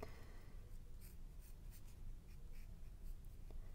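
A pencil outlines a triangle for a jack-o'-lantern face on a paper bookmark, making faint, close scratchy strokes in short, irregular bursts, with no voices.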